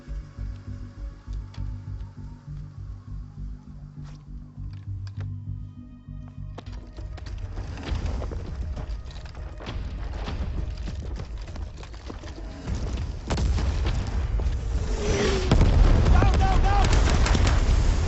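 Gunfire and explosions from a Shershah war film battle scene, starting with rhythmic, thudding pulses that give way to dense, roaring blasts and bursts building in loudness toward the end, with a brief spoken command mixed in.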